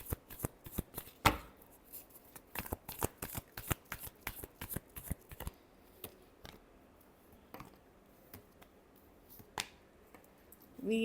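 Tarot cards shuffled by hand, a rapid run of crisp riffling snaps that slows and thins out into scattered flicks, close and quiet with no talking.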